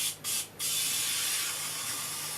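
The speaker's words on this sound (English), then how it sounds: "you want to spray it with some spray oil" Two quick hissing spurts from an aerosol cooking oil spray over chopped peppers and tomatoes, then one longer continuous spray, close by and fairly loud.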